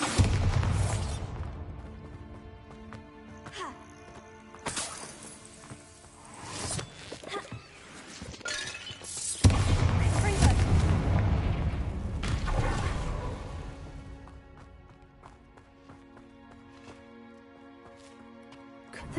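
Bombarda blasting spell explosions in Hogwarts Legacy hit a blockade with sharp, loud crashing bursts and heavy rumbling, amid game effects and a musical score, fading into quieter sound.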